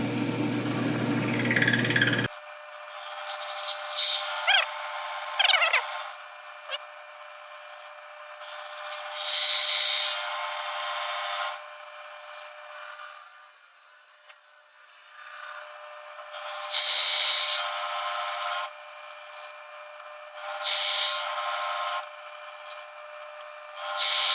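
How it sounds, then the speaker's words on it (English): A milling machine, running at high RPM, cuts a brake caliper part for a Kawasaki Z1-R in repeated bursts of grinding, whining chatter separated by quieter machine hum, no speech. "I will go ahead and climb mill it a little bit, just a skosh, and that'll take that chatter out of it."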